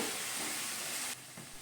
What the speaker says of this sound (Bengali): ভাজা ভাজা করে কষানো হয়ে গিয়েছে নেড়ে চেড়ে নিয়ে মিশিয়ে নিচ্ছি